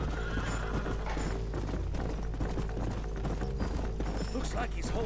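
Horses in the video game Red Dead Redemption whinny while hooves clip-clop steadily throughout, mixed with game ambience and possible voices under the sound.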